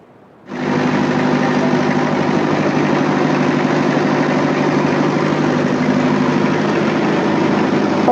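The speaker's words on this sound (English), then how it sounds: "It is an automotive type of multi-cylinder diesel engine." Automotive-type multi-cylinder diesel engine on a lab test bench starts up and runs at a loud, steady drone, with a constant rumbling hum that continues without change.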